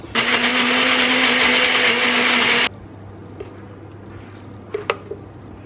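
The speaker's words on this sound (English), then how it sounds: "And then all you need to do is blend it all up." A countertop blender whirs a drink with added sweetener and raspberry jam, a loud steady motor roar for under three seconds that cuts off abruptly, followed by quiet room tone and a few small clinks.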